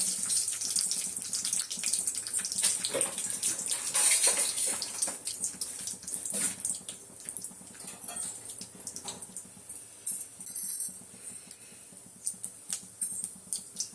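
Mustard seeds crackling and popping in hot oil with fenugreek for rasam, a dense, steady sputter of sharp pops and hiss close by, thinning into scattered crackles toward the end.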